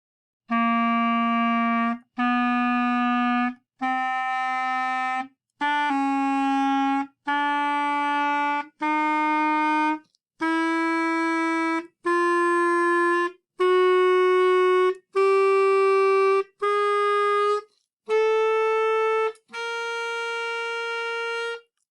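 A brass-like band instrument plays a slow ascending chromatic scale, fourteen separate sustained notes each about a second long with short gaps, steady and close.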